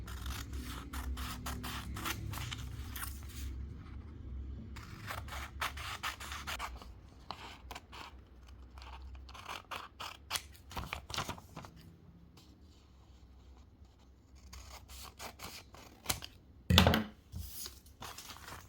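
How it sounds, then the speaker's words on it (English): Scissors cutting through several layers of paper pattern at once, a run of sharp snips and rustling scrapes, close and alone, with quieter pauses and a sudden louder crunch near the end. "Grab your scissor and we're going to cut all of this paper at once."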